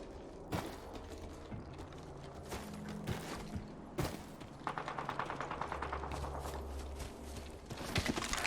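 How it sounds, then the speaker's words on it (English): Gunfire close by in the battle royale game Apex Legends, a few sharp single shots followed by a rapid burst of repeated cracks, with game mechanism clatter and background effects. "Gunshot near me."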